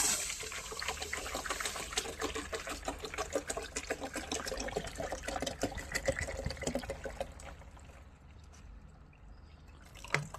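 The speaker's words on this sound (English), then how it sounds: "Here goes the water." Water pours steadily into the stainless steel AFRA 1.5L coffee machine, a close, continuous splashing trickle that thins out and fades to quiet near the end.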